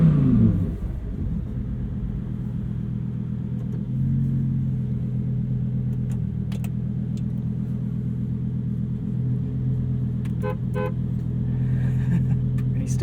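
A 2023 Lamborghini Huracan Tecnica pulling away on the street, heard as a steady, low engine rumble that stays even and close, with a few faint clicks above it.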